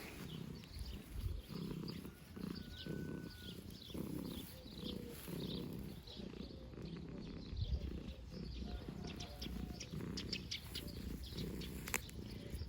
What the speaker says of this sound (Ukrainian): кіцька мурчить.